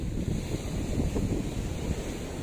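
Surf rolls in at Kedungu beach in Tabanan, Bali, a steady broadband wash of waves mixed with gusty wind buffeting the microphone, with no one speaking.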